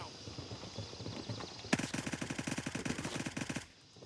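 A rapid burst of automatic gunfire from a magazine dump in the Gray Zone Warfare shooter game, fast evenly spaced shots ripping out loud and close for about two seconds, then stopping abruptly over quieter background noise.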